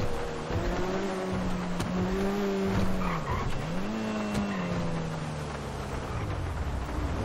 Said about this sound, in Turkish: Yağıştan dolayı biraz kayıyor araba tabii.